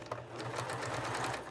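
A sewing machine run standing up, stitching a scrap taggie blanket: a quiet, continuous rapid needle chatter with an even rhythmic hum throughout the short stretch.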